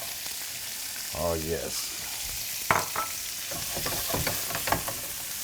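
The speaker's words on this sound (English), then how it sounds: "I'm gonna saute the green peppers and onions for the Philly." Green peppers, onions and garlic sautéing in a pan for Philly cheesesteak filling, a soft steady sizzle with occasional stirring scrapes, while a voice speaks briefly over it.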